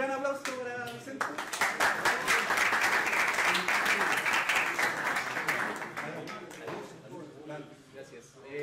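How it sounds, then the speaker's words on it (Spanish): An audience at a JavaScript developer meetup applauds a speaker with a dense burst of clapping that rises and then tapers off, with talk at the start and the end. "Un gran aplauso para Vicente."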